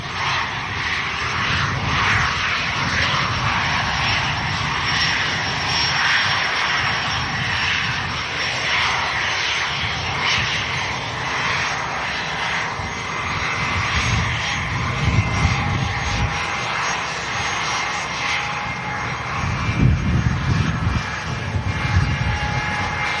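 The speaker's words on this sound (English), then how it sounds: "Beautiful Bombardier Challenger 350" A Bombardier Challenger 350 business jet roars loudly at Manchester Airport, its engines holding a steady, broad rumble with a high whine for over twenty seconds, swelling slightly toward the end.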